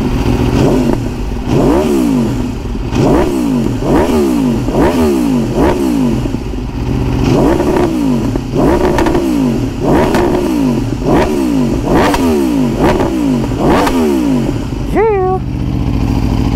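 Sport bike engine revved repeatedly on a winter ride, loud rising and falling revs in a steady cycle about once a second, with a short spoken remark near the end.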